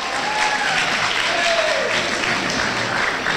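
A crowd at a stage presentation claps in answer to the host, producing steady, full applause that holds at an even level, with a faint whistle-like tone sliding through early on.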